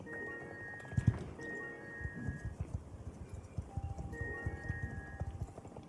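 Game horse hooves clip-clop steadily in Star Stable Online, a quick even rhythm of trotting or galloping steps with a brief whinny-like tone layered in, moderately loud and continuous throughout.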